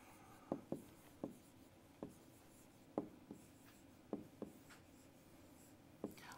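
A single word is handwritten in a short burst of pen or marker strokes. Light taps and brief scratches come at an uneven pace, close and fairly faint, with no talking.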